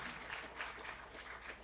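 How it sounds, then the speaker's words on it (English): Faint, steady applause from the audience at a postal banking symposium, a soft continuous patter of many hands clapping heard from afar. "So we should applaud ourselves for that."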